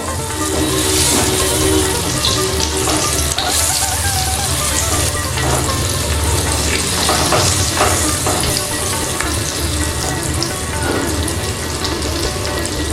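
Pointed gourd coated in turmeric powder sizzles steadily in oil in a pan, a continuous close frying crackle with occasional stirring scrapes and no talk.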